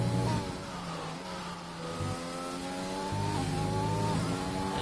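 A race car at a circuit braking hard into a corner, its engine note loud and near, stepping and dropping in pitch as it slows with a brief tyre squeal.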